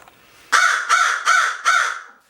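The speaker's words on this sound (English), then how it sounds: "people don't like crows. They're loud." A crow gives four loud, harsh caws in a steady rhythm, close by, each call rasping and drawn out.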